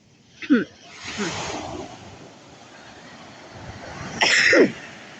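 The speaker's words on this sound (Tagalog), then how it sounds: "excuse me guys ha, inuubo ako. Kumain ako matamis kanina." A few short coughs and throat-clearing sounds come close to the mic, separated by pauses over a soft, steady outdoor background.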